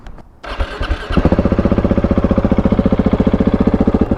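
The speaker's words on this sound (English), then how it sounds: "I'll start it for you now" A motorcycle engine cranks briefly, catches, and settles into a loud, steady, rhythmic idle close by.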